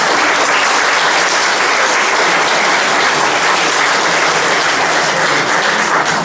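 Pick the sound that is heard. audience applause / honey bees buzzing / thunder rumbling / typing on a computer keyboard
audience applause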